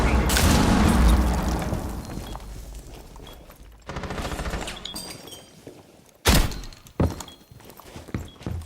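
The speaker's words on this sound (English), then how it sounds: "Nitro detonated." Nitro Cell explosive set off in Rainbow Six Siege, a loud blast that dies away slowly, followed by a few sharper thuds and gunfire-like bangs, with game chatter under it.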